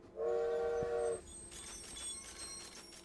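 Train in the Railroad Corporation game sounds a loud, short horn blast, followed by a lighter clatter of rolling wagons carrying textile and leather freight.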